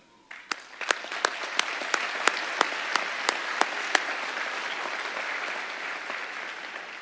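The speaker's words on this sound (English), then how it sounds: "I know all too well that the journey was not easy, but you made it, and for that, we applaud you" A crowd applauds steadily at a college graduation ceremony, with a few loud sharp claps standing out early before the clapping settles into an even patter.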